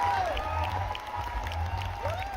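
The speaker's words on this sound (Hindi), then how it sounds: "आप सभी की जोरदार तालियां हो जाए।" Applause and some cheering from a student audience in a university hall during a live session, moderately distant and sustained, with a tonal whine and low hum running underneath.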